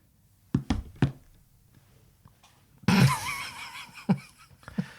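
Knocking on a door: a quick cluster of sharp raps, a burst of noisy sound in the middle, then another single rap, fairly close.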